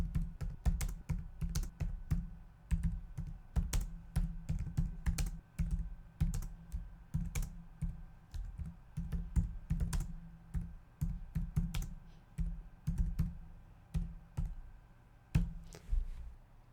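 Steady typing on a computer keyboard, a continuous run of crisp, close key clicks with brief pauses, alone with no voices.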